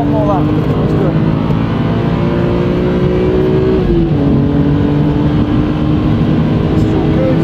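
BMW Z4 M Coupe lapping Bedford Aerodrome on a track day, its engine droning steadily at high revs with a brief dip and rise in pitch as the throttle comes back on, loud and continuous from inside the cabin.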